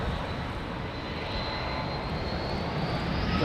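Qantas QF9 Boeing 787 Dreamliner jet taking off on runway 09, a steady, loud broadband engine roar that holds without a break, with no voices.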